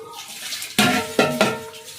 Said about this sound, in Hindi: ये है हंडी, इसको मांज लूँ